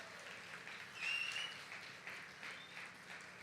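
A church congregation claps at the close of a sermon at Bola de Neve São João, faint and sustained applause with a brief whistle-like tone near the start.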